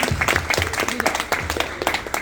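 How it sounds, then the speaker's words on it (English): At a quarterly awards event in Atlanta, a crowd applauds for an honoree. Lively, scattered clapping runs under people talking close by. "Let's give her a round of applause."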